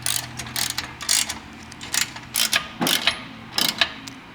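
A socket ratchet clicks in quick bursts while tightening 11mm nuts on a Rotopax mount for a Toyota 4Runner Sherpa window panel, close and crisp with short pauses between strokes.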